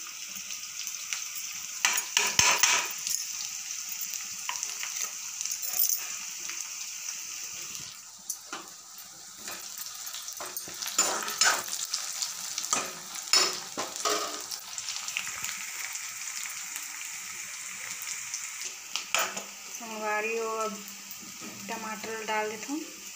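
Garlic ginger paste frying in a pan for an egg and potato curry, with soft sizzling and intermittent scraping stirs from a spoon, rising and falling with occasional metallic clinks.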